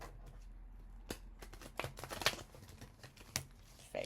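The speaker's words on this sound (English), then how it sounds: "Since this is a fairly new deck, it's kind of stiff, so bear with me while I try to shuffle it." A stiff, fairly new deck of playing cards being shuffled, irregular crisp riffling snaps and clicks, close and fairly faint, with a few louder flicks and no talking.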